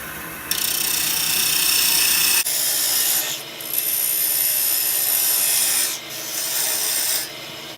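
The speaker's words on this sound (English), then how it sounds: "Fire the lathe back up, about 1800 RPM, and make some nice, slow," A wood lathe spins at about 1800 RPM while a parting tool cuts scrap wood with a steady, close, rasping scrape, lifting off and biting back in several times.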